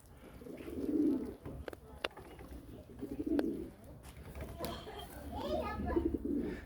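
Pigeons coo in several soft, low rounds at close range, the throaty calls rising and fading in steady bursts over faint background noise.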